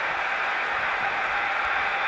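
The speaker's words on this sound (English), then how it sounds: "And just listen to this crowd" A wrestling event crowd roars in a steady, dense wash of cheering and applause that holds throughout without a break, with no distinct voices standing out.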